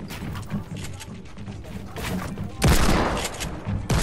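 Rapid bursts of gunfire in a Fortnite match, a dense continuous rattle of shots that swells sharply louder partway through, with no pauses between volleys.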